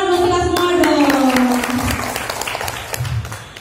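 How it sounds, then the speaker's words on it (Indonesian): Audience applause fills a workshop room during a small-business (UMKM) training session at Hotel Luminor Jember, with a voice speaking over the steady clapping. "Tepuk tangan buat kita semua dong."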